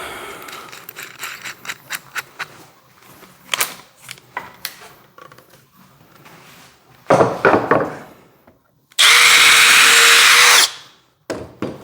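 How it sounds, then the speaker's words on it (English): A few clicks and rattles lead into a close, loud power drill pre-drilling holes in pine wood, whirring for a short burst, then a steady two-second drilling run, then a brief restart. "I'm gonna pre-drill these two"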